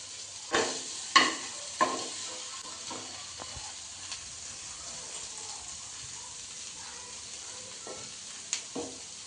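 A chapati cooking on a hot pan, oiled inside and puffing up, gives a steady soft sizzle with a few sharp knocks and scrapes of a utensil, mostly near the start.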